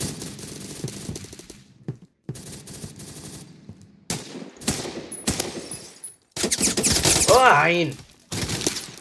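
Gunfire in the Roblox game Phantom Forces comes in bursts of automatic rifle shots broken by brief silences, with a louder stretch of rapid fire near the end, while someone speaks excitedly over the shooting.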